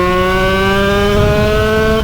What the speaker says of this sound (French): On va quand même un peu accélérer parce que là on se fait chier hein.